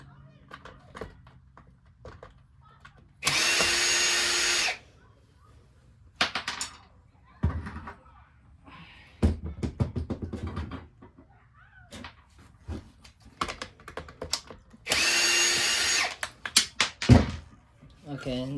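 Power drill backing screws out of a Dirt Devil Endura Express vacuum tube, two loud sustained whirring bursts spaced apart, with clicks, handling clatter and a voice talking in the gaps.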